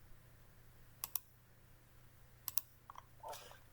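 Computer mouse clicks come quietly in close pairs, two sharp double clicks followed by a few softer taps, over a low hum in an otherwise quiet room.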